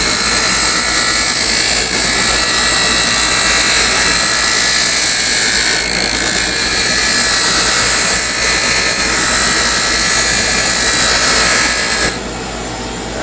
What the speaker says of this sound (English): I'm going to switch over to a small skew chisel that I can get into here real easily.